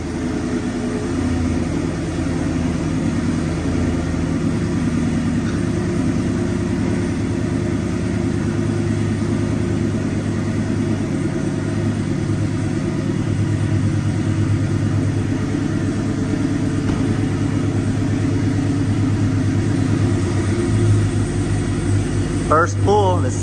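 A 392 HEMI work truck engine drones loudly and steadily on a dyno for a long stretch, its low rumble filling the space and building slightly toward the end, with a voice heard in the background.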